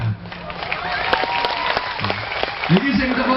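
Audience applause at an Islamic sermon gathering, dense clapping that runs steadily throughout, with crowd noise and the preacher's voice breaking in over it.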